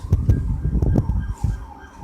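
An emergency siren wails in sweeping tones over a busy, thumping background of traffic and clatter.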